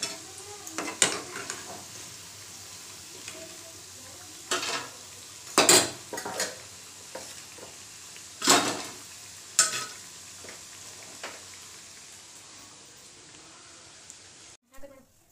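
Onion bajji fry in hot oil with a continuous bubbling sizzle, broken by sharp clinks of a slotted spoon against the pan as fritters are turned and lifted out, while people talk nearby.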